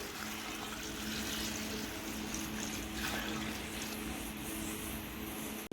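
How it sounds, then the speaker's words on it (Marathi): Peeled potatoes being rinsed in a vessel of clean water during wafer preparation, a steady continuous sloshing and trickling wash that runs throughout at moderate, close range. "स्वच्छ पाण्याने धुवून घेत आहे"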